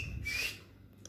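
A storyteller whistles in imitation of a parrot, a single rising whistle lasting about half a second, close and fairly loud, with no talk over it.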